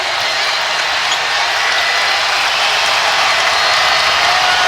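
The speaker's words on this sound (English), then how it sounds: "Here comes the Siegel Center crowd." A loud, steady roar of a packed home crowd at the Siegel Center cheering during a 2017 VCU basketball game against Texas, sustained and even throughout with no break.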